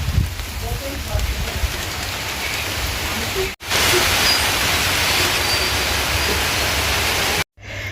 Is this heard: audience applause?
no